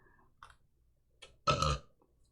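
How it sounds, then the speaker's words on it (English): A single loud burp erupts near the midpoint after a couple of faint small mouth noises, close and otherwise quiet. "I'm gonna burp apparently."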